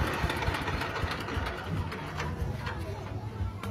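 A 14.5 horsepower engine driving a palm cone thresher with a 5 tons per hour capacity runs with a steady, rough mechanical drone and low rumble, loud and close, while people talk nearby.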